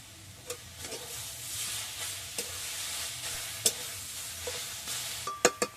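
Leafy greens frying and being stirred in a pan, with a steady soft sizzle and scattered scraping clicks of a spatula against the pan, close and moderately quiet, no voices.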